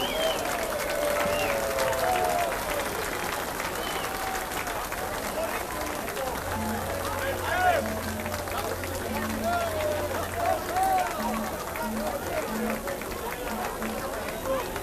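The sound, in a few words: crowd applause at Murphys Irish Days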